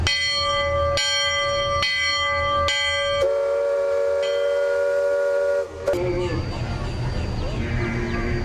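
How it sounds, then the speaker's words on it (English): A bell on the Liberty Bell riverboat clangs four times in a steady rhythm, then a long steam whistle sounds and engine and water noise rise afterward, loud and close. "Sound last bell."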